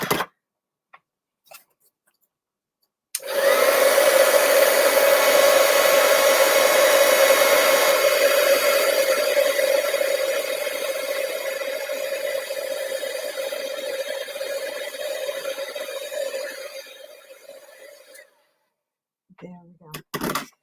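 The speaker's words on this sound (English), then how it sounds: "now we will heat that up with our heat tool" A heat tool blows steadily for about fifteen seconds while melting white embossing powder on a card, with a faint tap or two before it starts and after it stops.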